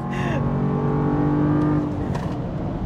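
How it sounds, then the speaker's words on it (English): The V8 engine of a 2023 Land Rover Defender revs loud and close in dynamic mode, a sustained throaty roar that climbs and then settles, with a brief burst of noise near the end and no talk. "this V8 freaking roars"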